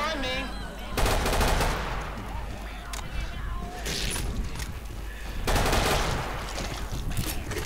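Rapid automatic gunfire from a hard-recoiling weapon in Killing Floor, running at 4K with maximum settings, rattles in dense bursts, swelling louder around the first second and again near five and a half seconds, with a voice talking throughout.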